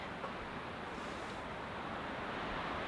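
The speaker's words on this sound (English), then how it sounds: "As I mentioned, it is windy." Steady, broadband rushing wind from a hurricane's overnight storm roars continuously through a mountain forest without pause, loud and close, with no voices or other distinct sounds.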